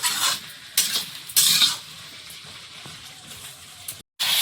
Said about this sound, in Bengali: মশলাটা কষানো হয়ে গেছে, আলুটা দিলাম।